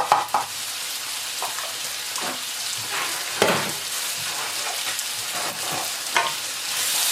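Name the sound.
onions and garlic frying in pan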